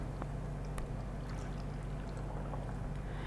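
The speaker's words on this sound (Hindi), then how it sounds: "रस डालने के बाद अब हम इसमें शामिल करेंगे आधा गिलास दूध।" Half a glass of milk is poured into a blender jar over juice while preparing kheer, producing a short, steady, soft liquid gurgle that lasts a few seconds.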